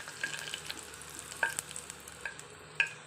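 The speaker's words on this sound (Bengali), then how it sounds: "তেল গরম হয়ে গেছে। তেজপাতা," A bay leaf goes into hot mustard oil, giving faint, sparse crackles and small pops over a quiet hiss, close but low in level, with no talk.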